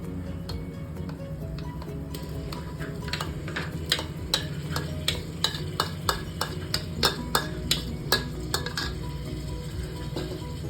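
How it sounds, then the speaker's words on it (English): A spoon stirs tomato puree into cooked masala in a pot over a medium gas flame, with repeated metallic scrapes and clinks over a steady low sizzle. "I have stirred the tomato puree into this."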